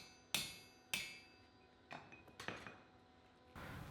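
Hammer blows on hot steel while tapering a forged Viking shipwright's axe blank on an anvil: a handful of sharp, ringing metallic strikes, spaced irregularly, a couple louder and clearer than the rest, with no voices.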